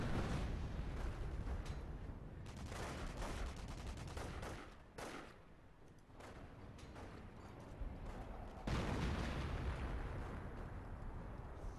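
Artillery fire and explosions in a real-time strategy match, a dense loud barrage of booming blasts and crackling gunfire, easing briefly in the middle before surging back full and continuous.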